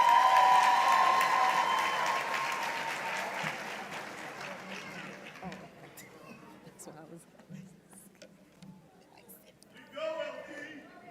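Audience applause and cheering at a sheriff's office promotions ceremony, loud clapping that gradually dies away into scattered claps and murmuring chatter, with a voice speaking near the end.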